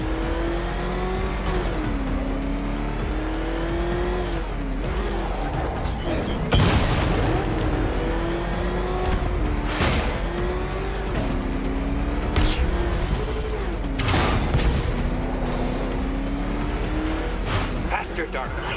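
The Batmobile's engine races in Batman: Arkham Knight, a loud, sustained, throaty roar that rises and falls with repeated revs. Booms and mechanical whirs cut through it, and a voice talks over the engine throughout.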